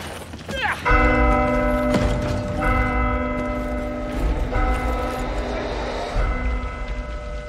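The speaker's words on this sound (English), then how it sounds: "Strike the bell!" A large bell struck in a video game rings out in repeated loud, resonant clangs with long sustained tones, mixed with mechanical ratcheting and creaking sounds.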